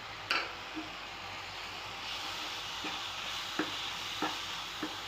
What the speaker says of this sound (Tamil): வாழைப்பழத்தை நல்லா நெய்யிலேயே மசிஞ்சு வதக்கியாச்சு